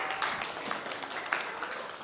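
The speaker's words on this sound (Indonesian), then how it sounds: "Tepuk tangan." Faint, scattered hand clapping from a classroom audience after a student presentation in an Indonesian teacher-training lesson at Universitas Negeri Makassar, a soft patter lasting throughout.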